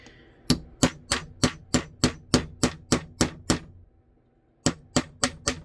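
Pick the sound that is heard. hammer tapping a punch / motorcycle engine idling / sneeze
hammer tapping a punch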